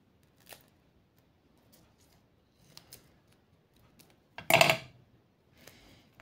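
A pair of scissors snips through sticky foam during a craft project, giving one loud, crisp cutting burst near the middle with a few faint clicks and taps around it, close and alone.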